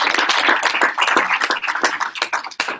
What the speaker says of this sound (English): You guys should clap for him